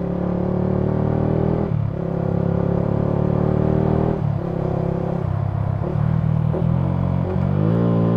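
A Yamaha Sniper 155R motorcycle downshifts from fifth to second gear with rev matching, a steady close engine drone broken by several short blips as the revs rise and settle between gear changes.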